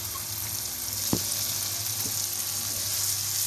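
Okra tipped into hot frying spice masala for stuffed bhindi, a steady close sizzle with a single sharp clatter as it drops in, then a soft bump.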